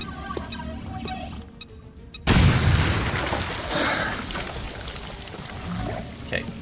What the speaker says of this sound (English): Getting an acid grenade over here to take out that shield.